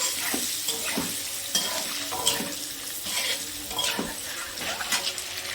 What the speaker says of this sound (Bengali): এইভাবে আস্তে আস্তে নাড়াচাড়া করতে করতে ডিমগুলোকে ভাজা হবে